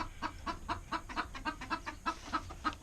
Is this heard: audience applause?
no